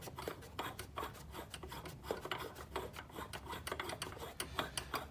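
Unscrewing a plastic oil catch can canister on a BMW N55 engine in an F10 535i, giving a steady rasping, grinding friction of threads turning in short repeated strokes, close up and fairly quiet, with no talking.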